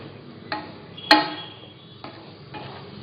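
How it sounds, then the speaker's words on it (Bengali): A spoon stirs semolina dough in an oiled pot, giving a few scattered knocks and scrapes against the metal, with one sharper clack in the middle, close and fairly quiet. "এবার এটাকে নাড়তে হবে যতক্ষণ না সেদ্ধ হয়।"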